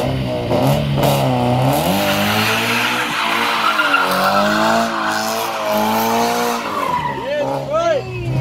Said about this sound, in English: doing some one-wheel peels, as he likes to call it, in this random parking lot